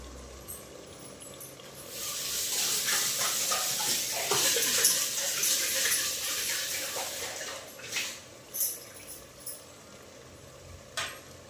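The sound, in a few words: water being poured into pot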